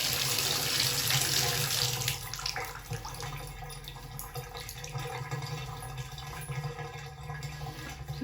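Water runs steadily from a Moen faucet into a sink, a loud hiss at first that drops after about two seconds when the tap is shut off, leaving quieter trickling and drips.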